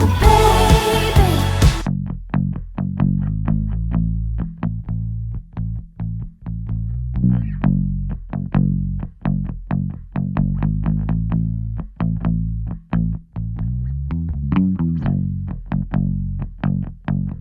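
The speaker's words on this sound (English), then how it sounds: "So that amp track is really helping to add the tone to the bass guitar now, and the whole sort of flavor of that bass." Bass guitar with a distorted amp track layered in a music mix, playing a steady pattern of punchy, plucked low notes after a brief burst of fuller music at the start.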